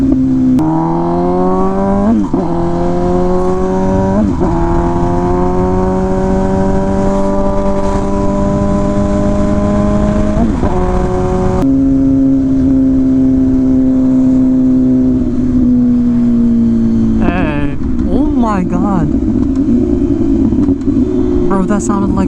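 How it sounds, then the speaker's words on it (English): A loud motorcycle with a custom exhaust revving up and down repeatedly, with sharp throttle blips, a gunshot-like crack and a rough crackling exhaust, heard up close. "that sounded like a gunshot out of the exhaust."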